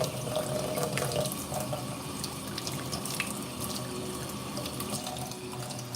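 Water runs steadily from a tap into containers being refilled, a continuous close splashing hiss with a slight surge near the start and no voices.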